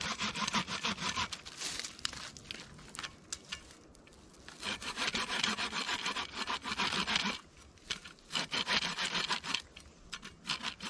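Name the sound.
multi-tool shovel saw cutting through a dry branch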